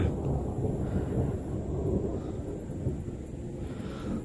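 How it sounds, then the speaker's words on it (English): Low rumbling thunder from an approaching late-August storm rolls continuously, with wind buffeting the microphone and no speech. "We're getting a storm here, folks."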